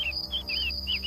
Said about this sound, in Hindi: रात में पेड़ पर बैठे पक्षियों की चिलचिलाहट की आवाज मुझे बड़े बारीकी से सुनाई दे रही थी।